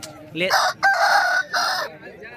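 A fighting rooster at a poultry market in Vijayawada crows loudly and close by, one long drawn-out call broken into several strained, sustained stretches.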